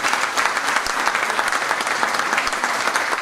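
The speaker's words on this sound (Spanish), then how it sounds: "Démosle un aplauso a ustedes mismos," An audience at a leaders' day celebration in San Nicolás applauds, a dense, steady clapping that holds evenly from start to finish.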